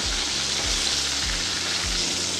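Pointed gourd (potol) pieces fry in hot oil in a pan for a Bengali dish, a loud continuous sizzling hiss with low periodic thumps from the pan or stove, no voices.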